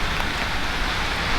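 Steady rain falls outdoors as an even, dense hiss with no breaks and no voices, constant and fairly loud throughout.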